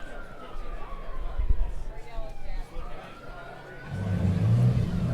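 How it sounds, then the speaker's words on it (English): A wavering siren sweeps up and down in the distance beneath someone talking, with rumbling engine noise rising near the end. "sound of a siren is actually a good thing"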